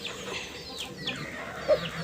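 A young patta rooster, eleven months old and offered for sale, gives faint clucking calls with one brief louder call near the end, set against steady outdoor background noise.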